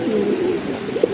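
Large fancy pigeons coo in a steady low warble, close and loud, a short burst with a brief flutter at the end.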